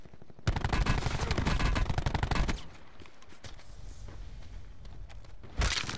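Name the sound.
gunfire from video game Call of Duty Black Ops 4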